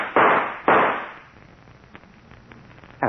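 Two sharp gunshots fired in an old-time radio drama, loud and close, one right after the other, followed by a quiet stretch with faint ticks and another shot beginning at the very end.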